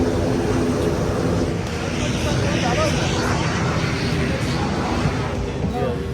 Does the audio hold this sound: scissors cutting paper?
no